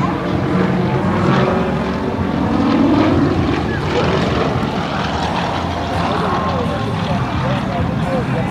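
Aerostars aerobatic team propeller planes flying a big loop at the 2011 NAS Pax River Air Expo: a steady engine drone with shifting pitch as the aircraft pass, heard under continuous announcer commentary.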